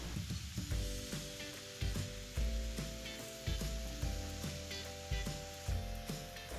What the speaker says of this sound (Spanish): vamos a ir desmoronando esas bolitas de carne para que no se nos hagan como pelotitas de carne